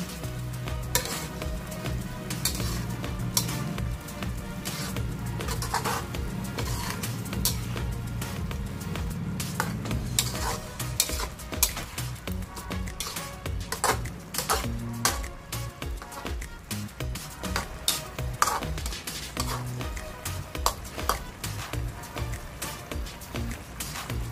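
Chicken and pork adobo sizzles and fries in a pan while being stirred, a steady loud crackle with scraping strokes of the spoon throughout, close up and without talk.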